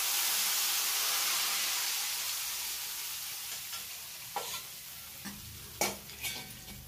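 Hot oil tempered with mustard seeds and cumin is poured over handvo batter, letting out a loud, hissing sizzle that fades over several seconds, followed by a few light clinks of utensils.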